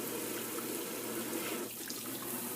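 Lukewarm water sprays steadily onto a flag being washed, a constant close hiss of running water with no talk.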